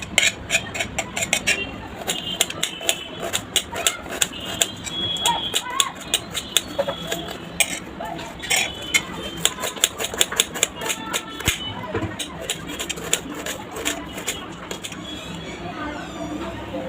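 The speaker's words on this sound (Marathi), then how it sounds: "कांदा छान असा बारीक चिरून घ्यायचा आहे" Rapid, even knife strokes finely chop an onion on a board in a home kitchen, a dense run of sharp clicky taps lasting the whole stretch, close and fairly loud, with no talking.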